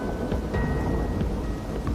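Heavy rain pours down in the Australian bush, a dense, loud, constant wash of falling water with a low rumble like distant thunder beneath it.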